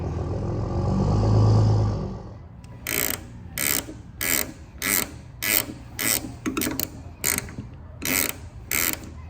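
Fitting being tightened on a Vevor Cut 50 hobby plasma cutter with a ratchet, a run of about ten sharp, evenly spaced mechanical clicks following a brief low rumble at the start.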